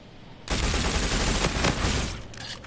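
Gunfire from a three-round burst weapon in a 1v1 gun game, a sudden dense rattle of rapid shots starting half a second in and ringing out for about two seconds, fairly loud with no talk.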